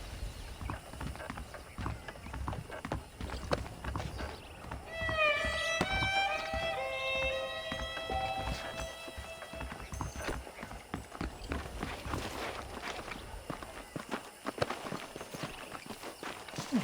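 Rhythmic hoof clip-clops of saddled horses in Red Dead Redemption plod along at a walking pace, with a melodic flourish of chiming tones briefly rising over them partway through.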